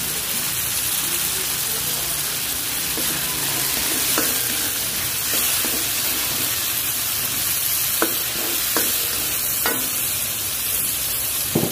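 Curry powder stirred into a sizzling pan for a coconut-milk and tomato fish stew, a constant close frying hiss with occasional scrapes and taps of the spoon against the pan.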